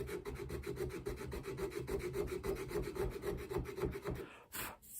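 A hand-made chequering tool ground from a screwdriver rasps across wood in quick repeated strokes, a close, scratchy filing rhythm that stops abruptly near the end.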